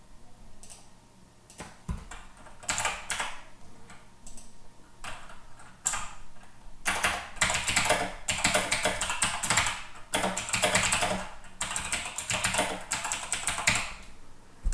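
Fast typing on a computer keyboard while writing a note in client software, with irregular bursts of close, crisp key clicks that start sparse and grow into dense continuous typing.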